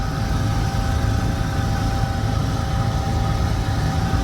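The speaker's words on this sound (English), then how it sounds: "I'm driving in second gear, and I'm giving it as much throttle as I dare." Car engine pulling hard in second gear under heavy throttle, a steady loud drone with low rumble and tonal hum that holds constant throughout, no speech.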